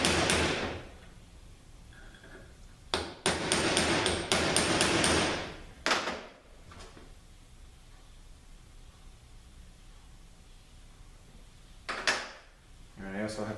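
Sharp metallic hammer blows while working a bushing out of a ZF6HP19 transmission, a few close bursts of impacts in short clusters separated by quieter stretches of shop ambience.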